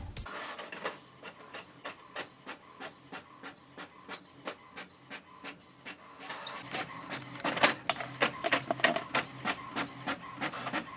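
A home printer runs off a sewing pattern with a steady train of rhythmic mechanical clicks and feed strokes. It is close and moderately loud and grows busier toward the end, with no one speaking.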